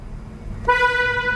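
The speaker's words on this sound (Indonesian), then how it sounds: "Coba kita dengerin suara klaksonnya." A Honda CR-V hybrid's horn sounds once, starting partway in and holding steady as a bright, thin, nasal tone over quiet background noise.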